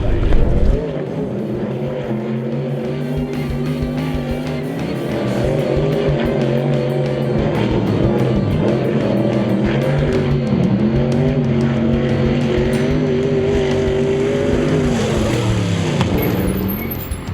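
A powerful race car roars around a banked track, its engine droning loud and steady with shifting pitch through the turns, close and continuous with no talk.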